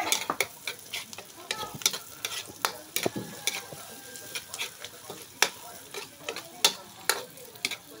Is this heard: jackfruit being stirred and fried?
yes